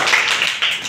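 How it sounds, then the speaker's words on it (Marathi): Children clap together in a classroom, a short burst of dense, bright applause filling the whole moment without a break. "टाळ्या वाजवा माझ्यासाठी."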